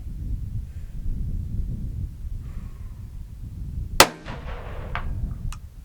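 A single sharp rifle shot cracks out during long-range target shooting, striking a steel target at 100 yards, followed by a short ringing echo tail over steady outdoor background noise.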